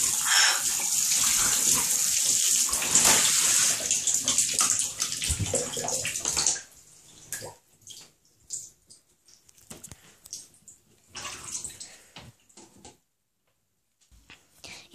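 Water gushing from a tap into a bathtub, a loud hissing rush for about six seconds, then quieter splashes and trickles with pauses.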